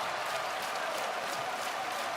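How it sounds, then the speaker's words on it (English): Dense, steady clapping fills a basketball arena during a FIBA Intercontinental Cup game as a missed free throw is applauded, a continuous wash of many hands with a crowd murmuring underneath. "Applauding the missed free throw."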